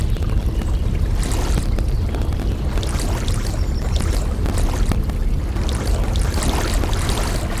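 Rushing river water at rapids in the Molly of Denali canoe game gives a loud, continuous broadband roar with splashy texture throughout, and no voices.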